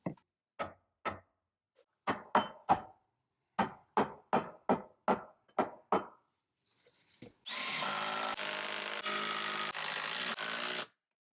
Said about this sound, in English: If you've ever cut through plaster, it's no joke. That's why I'm using a Sawzall here